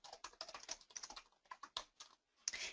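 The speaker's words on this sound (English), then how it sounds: "I can't talk and type at the same time" Rapid clicking of computer keyboard keys being typed, close and fairly quiet, coming in uneven bursts with short pauses and no voices.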